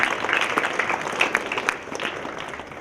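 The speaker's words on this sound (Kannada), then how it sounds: "ಎಲ್ಲ ಗುರು ವೃಂದದವರಿಗೂ ಒಂದು ಸತಿ ಜೋರಾಗಿ ಚಪ್ಪಾಳೆ ತಟ್ಟಿ ಅವರನ್ನು ಅಭಿನಂದಿಸೋಣ" An audience at a Guru Purnima school event claps for the school management and teachers, a steady medium-loud patter with scattered sharper claps that eases off toward the end.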